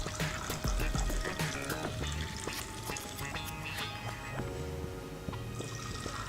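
Hot coffee is poured evenly into a flaming drink, giving a continuous liquid splash and trickle with scattered drips and crackles. The sound is close and steady throughout, with no talk.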